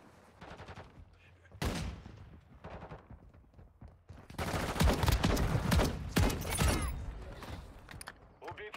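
Gunfire from the player's gun in Warzone Mobile on iOS, rapid bursts of shots in clusters, the heaviest run in the second half, with someone talking between volleys.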